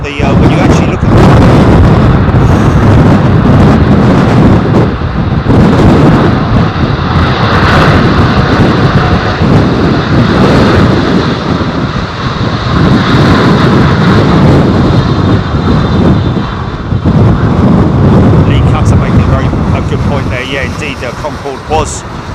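A windy-day airliner arrival at London Heathrow, with a loud, sustained jet engine roar and heavy aerodynamic braking noise blending with gusting wind buffeting the microphone. People talk over the din throughout.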